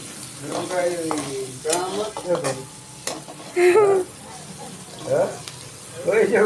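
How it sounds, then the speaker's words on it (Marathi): Onion frying in oil with a cube of Amul butter, a steady close sizzle broken by stirring, while someone talks over it. "मस्त असं तेलामध्ये उरलेला हा कांदा टाकला आणि त्याच्यामध्ये एक क्यूब बटर टाकायचं आहे"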